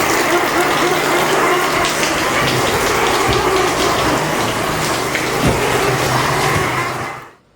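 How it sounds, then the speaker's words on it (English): Meltwater waterfalls pouring down dark rock faces of the bird cliffs at Alkefjellet, Svalbard: a loud, steady, broadband rush of falling water that fades out at the end. "meltwater from the nearby geological ice cap creates ephemeral waterfalls that pour down the dark rock faces"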